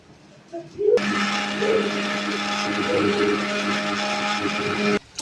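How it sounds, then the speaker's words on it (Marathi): An electric kitchen blender pureeing onion and tomato, starting abruptly with a loud steady whirring roar that holds for about four seconds before cutting off, with faint clatter before it starts. "चला आता आपण हे कांदा आणि टोमॅटो ह्याची आपण प्युरी करून घेऊ."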